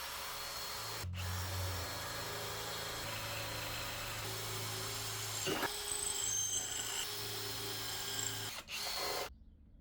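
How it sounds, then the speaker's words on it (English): A power drill whines steadily as it bores about 100 holes while rebuilding a wrecked car, with brief pauses where the motor stops and starts again, close and fairly loud. "It's about 100 holes you have to drill through."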